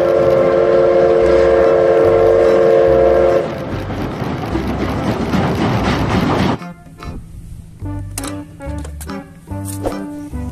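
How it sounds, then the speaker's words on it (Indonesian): Toy Thomas train playing its sound effects: a sustained whistle tone, then chugging rail noise, then short jingle-like tones, loud and close with no talk. "Widih, lihat, teman-teman, ada kereta Thomas."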